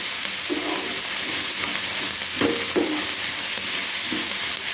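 Beans frying in a pan are stirred with a utensil, giving a continuous loud sizzle with occasional scraping strokes against the pan and no talking.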